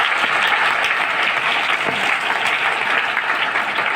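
Loud, dense applause fills the hall at a DXN health training program in Fatuha, Bihar, a steady wash of many hands clapping at once for the whole stretch with no pauses.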